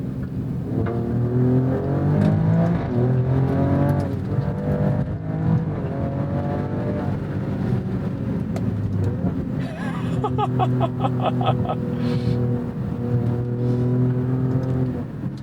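The 2024 Alfa Romeo Stelvio Quadrifoglio's engine hums and gently revs during a drive, holding a steady note with rising pitch sweeps, loud and close throughout.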